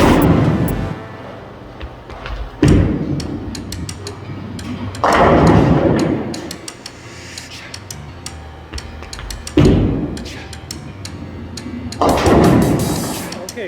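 Bowling balls thrown down a lane for a speed check. Several heavy releases are each followed by a long rolling rumble and a crash of pins, spaced a few seconds apart, in a reverberant alley with background chatter.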